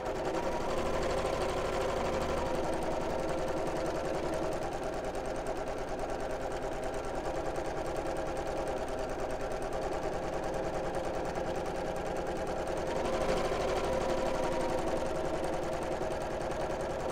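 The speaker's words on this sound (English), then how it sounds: "And then I'm going to sew all the way around the edge." A sewing machine runs steadily for the whole stretch, stitching all the way around the edge of a viscose bag, lining and outer piece together. The hum is close and continuous, with no talk.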